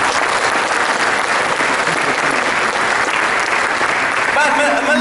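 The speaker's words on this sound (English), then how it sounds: "And give yourself an applause," Audience applause at a Malaysian university convocation fills the hall, a steady dense wash of clapping from many hands, loud and sustained throughout, with faint background voices mixed in.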